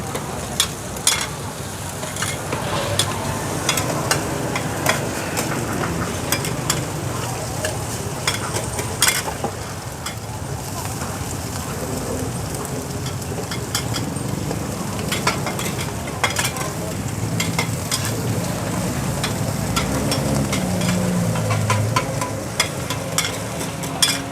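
Steady frying and sizzling of an oyster omelette in a large pan, with constant scraping and stirring clatter throughout, busy and close.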